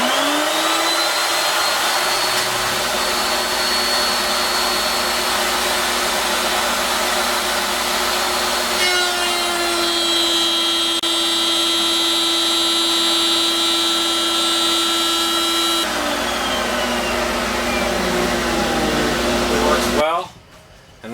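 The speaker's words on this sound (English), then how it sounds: "Now it's just a matter of running it all the way around on the router." Router running continuously at steady pitch while cutting a rabbet around the edge of a wooden kids' table piece, a loud whine with tonal shifts as the bit engages the wood, stopping abruptly near the end.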